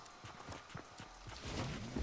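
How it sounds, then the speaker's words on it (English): Footsteps of a player character in Fortnite, a regular series of thudding steps at close range, followed by rising game rumble and clatter toward the end. "I hear footsteps"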